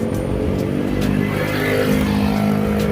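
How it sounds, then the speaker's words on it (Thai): A 2022 Honda Wave 125i motorcycle engine hums steadily and rises slightly as the bike pulls away, constant and fairly loud, with no voices. "ขี่รถไปแล้วครับเดินทาง"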